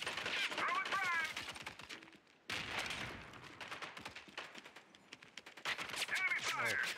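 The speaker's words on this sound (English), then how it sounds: "Enemy fire." Enemy gunfire in a squad-based military shooter video game, dense rapid bursts of shots crackling almost continuously with a brief pause midway, loud and close, with game voices talking over it.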